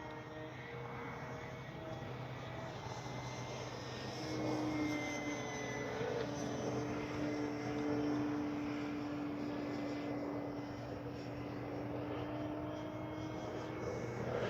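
Flex Mamba 10 G2 RC plane flying 3D aerobatics, heard as a steady, distant electric motor whine that rises and falls in pitch as it maneuvers over faint outdoor background noise.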